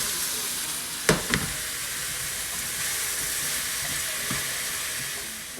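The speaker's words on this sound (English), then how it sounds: "So I'm going to saute this for a little bit." Garlic and onion saute in a pan for a salmon sauce, giving a steady, quiet hiss of frying with a couple of sharp clinks near the start and no talking.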